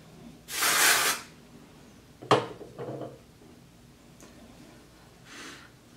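Dry shampoo sprayed from an aerosol can onto hair in short bursts: a strong hissing spray near the start, a shorter puff with some handling clicks, then a faint final spritz.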